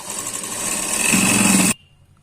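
A sewing machine runs steadily for nearly two seconds, stitching the yoke strip of a double katori blouse, with a dense mechanical whir that stops abruptly into near silence.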